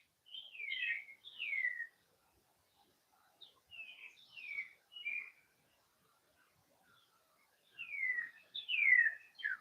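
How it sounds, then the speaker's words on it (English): Small birds chirp outdoors in the morning in short bursts of two or three bright, descending notes, separated by quiet gaps, clear and fairly close against an otherwise silent background. "Got birds flying by."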